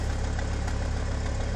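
A car engine idles steadily with a low, even rumble, just after being started following four snow storms and more than three weeks of sitting, with a leak in the exhaust.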